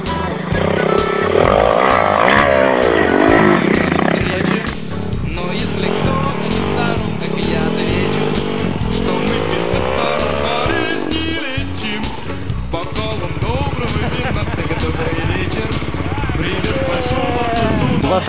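A car accelerates hard with engine roar and squealing tires, loud and close and continuous, with voices talking over it at times.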